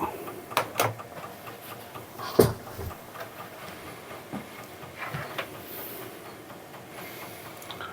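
Amiga computer booting from its floppy disk drive, with faint mechanical clicks and irregular seeking ticks, one sharper clunk, over a low hum and no talk.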